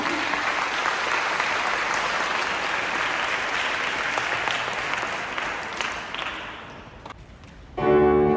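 Audience applause welcoming a 3-to-6-year-old children's choir at a church concert, dense sustained clapping from a large crowd that slowly thins and dies away, followed by a brief voice.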